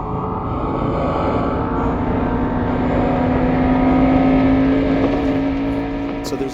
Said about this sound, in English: that sound design, which is a really obscure sort of racing sound that grows until we go to the helmet